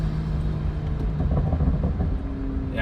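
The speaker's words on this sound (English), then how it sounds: "You can hear it building boost, which is pretty cool." A BMW F30 with a turbocharged N55 engine and performance intake rumbles steadily up close, with a rising whir of turbo boost building over the low drone.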